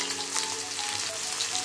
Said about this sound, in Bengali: এইবার পেঁয়াজটা ভাজা ভাজা করে নেবো।